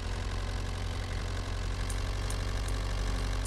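A moped engine in Farming Simulator 22 runs steadily with a low, constant drone and a slight rattle, unbroken throughout and without voices.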